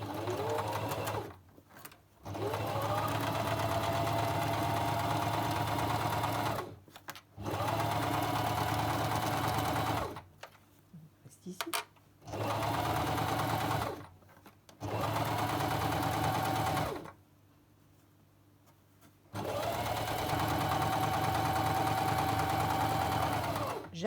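A sewing machine stitches a fabric side seam in loud bursts of several seconds, each a steady rapid mechanical whir, separated by short silent pauses, with no talking.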